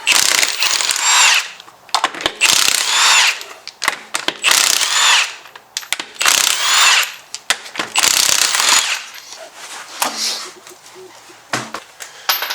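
Bursts of a power tool, likely an impact gun, zip and rattle in repeated loud pulses while the wheel comes off a C5 Corvette drift car, with short gaps between runs.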